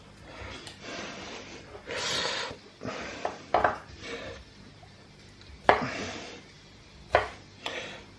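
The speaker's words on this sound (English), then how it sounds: "Okay, we are just literally chopping them." Tomatoes being chopped roughly with a knife on a board, heard as a series of close, irregular cutting thunks and scrapes with quiet gaps between strokes.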